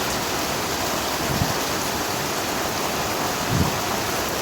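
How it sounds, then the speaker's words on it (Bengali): A heavy downpour pours down over a house under construction, a dense, loud, unbroken hiss of rain, with two brief low rumbles of thunder and no voices. "তো ঝুম বৃষ্টি চলে আসলো অলরেডি"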